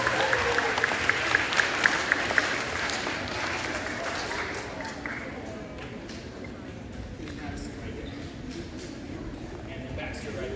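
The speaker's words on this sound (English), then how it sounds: "Can we have a round of applause," Audience applause at an elementary school 100th birthday event for three people, a steady roomful of clapping that stays dense and even throughout, with a few sharper claps early on.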